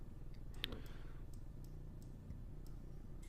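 A computer mouse gives a handful of faint, crisp clicks spread over a few seconds against a low background hum, one click a bit louder than the rest.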